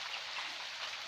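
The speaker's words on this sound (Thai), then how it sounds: "ฝนตกฝนตกเพื่อนๆตกแบบดีมากดีที่สุดเลย" Gentle rain falls in a rural area of Thailand, the first in over two months, with no wind or thunder. A soft, even hiss of drops runs through the brief moment.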